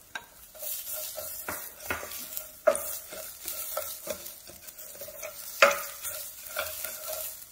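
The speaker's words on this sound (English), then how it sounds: "So I'm going in with my onion." Chopped onion sautéing in a hot pan, a soft sizzle broken by repeated scraping and stirring clicks from a utensil against the pan, close and fairly quiet.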